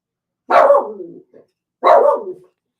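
A dog gives two loud, close barks roughly a second apart, each sharp and slightly drawn out, with a small yip between them and silence around them.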